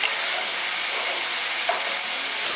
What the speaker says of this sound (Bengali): এখানে মশলাটা একদম খুব ভালোভাবে কষিয়ে নিয়েছি